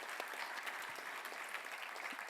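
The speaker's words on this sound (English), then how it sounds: "So a big applause to Laurie and Cecile for providing that." Brief, even applause from a conference audience at API Platform Conference 2023, a moderately loud patter of many hands with no talking over it.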